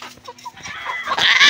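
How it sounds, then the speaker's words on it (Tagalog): Several native chickens cluck and squawk nearby while evading capture, the calls growing louder and more agitated toward the end of the short burst. "Nakakaloka naman yung mga manok na to."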